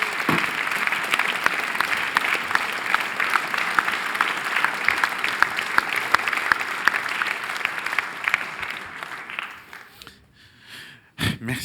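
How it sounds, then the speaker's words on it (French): Audience members clap for Didier Julliard at a theatre season presentation, sustained applause that thins and fades near the end, leaving a few faint sounds. "Je voudrais que vous applaudissiez,"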